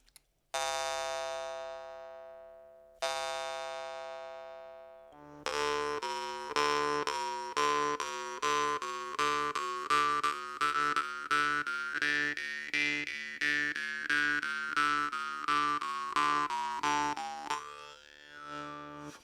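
Two slow, ringing jaw harp plucks sustain clearly before a quick, rhythmic twanging pattern with shifting overtones takes over, close and clean.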